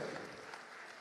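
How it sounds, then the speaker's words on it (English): Applause at the evening draw of a Sikh tournament at Sunderland Gurdwara, a brief, fairly faint, steady wash of clapping from a crowd. "big round of applause please once again for Sunderland Gurdwara for allowing us to host it here"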